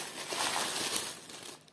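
A small plastic shopping bag from a grocery store crinkles and rustles continuously up close, a dense papery crackle that fades near the end and is closed by a sharp tap.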